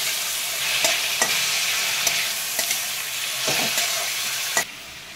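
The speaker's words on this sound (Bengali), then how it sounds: "কেটে রাখা ওলনাটাগুলো তেলেতে দিয়ে দিচ্ছি। হালকা একটুখানি নাড়াচাড়া করে নিচ্ছি।" Chopped elephant foot yam stems fry in hot oil with a bright, constant sizzle, punctuated by several sharp scrapes and knocks as a spatula stirs them.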